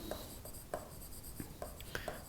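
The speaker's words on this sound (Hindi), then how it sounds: "मैं यहां लिख रहा हूं" Pen writing out a formula by hand, faint short scratchy strokes in irregular bursts, alone and quiet with no voice over them.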